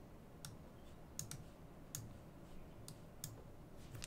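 Several crisp, separate mouse clicks, faint and close, over a quiet room hum as a Metasploitable 3 virtual machine is started on a Mac M1, with no voices.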